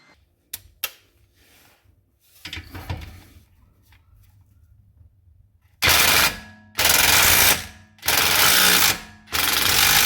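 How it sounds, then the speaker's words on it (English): An impact driver hammers at a tight rear shock absorber bolt on a BMW X1 F48 in four loud rapid bursts, each a second or so long, after some quieter handling clatter. "This is an E20, so I'm going to use an impact drive to do this."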